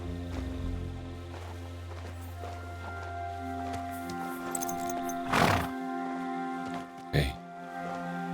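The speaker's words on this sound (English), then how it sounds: "there's the horse" A horse in the medieval game Kingdom Come Deliverance 2 whinnies in two short bursts near the middle and end, over a steady droning game soundscape and background noise.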